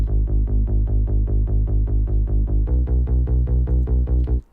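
Two bass synth layers, a mid bass and a plucked saw-wave bass, play together in a steady repeating pattern of short punchy notes, loud and alone, with a pitch shift partway through before cutting off.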